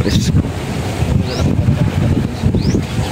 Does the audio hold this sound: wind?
yes